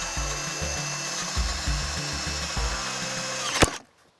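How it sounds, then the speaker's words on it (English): A power drill whirs close up in short repeated bursts as it bores into wood while carving a spoon, ending with a sharp knock and then quiet. "I'm gonna cheat a little, use the drill and just go bzz, bzz"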